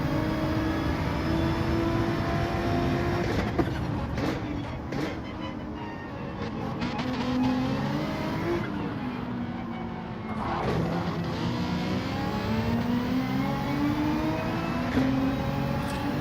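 A Ferrari Gr.3 race car in Gran Turismo 7 at Trial Mountain revs and accelerates through the gears, its engine note rising and falling in sweeping pitch runs, loud and continuous throughout.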